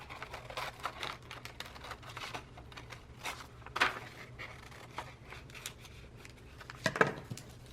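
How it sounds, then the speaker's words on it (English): Scissors trim excess tissue paper from a composition journal cover, producing quiet, scattered snips and crisp paper rustles with two sharper cuts standing out. "Trim off this excess tissue paper."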